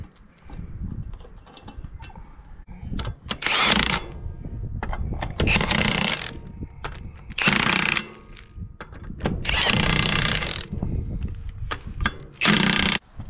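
Wheel bolts being started by hand on a trailer wheel held in place, heard as close metallic ratcheting and clattering that comes in bursts, with a few short louder spurts of tool noise between quieter handling sounds.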